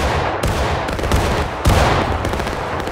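Massed musket fire in War of Rights, a Civil War battle at Burnside Bridge, crackles as a dense, continuous roar of overlapping shots with a few sharper cracks standing out. The volley stays loud and close throughout, with no talking.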